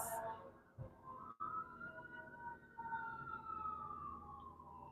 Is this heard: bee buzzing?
no